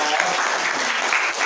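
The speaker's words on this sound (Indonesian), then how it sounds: "Ya, tepuk tangan dulu buat Sipa." A classroom audience applauds for a student, with dense steady clapping that stays loud and even from start to finish in a short burst.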